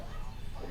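A man barking like a dog, a short burst of gruff, dog-like barks from a human voice imitating a dog, fairly quiet and brief.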